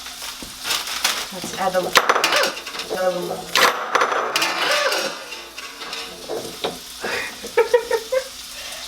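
Beans with spinach and garlic sizzle steadily in a hot pan, with utensil clinks and stirring scrapes up close while someone talks over the cooking.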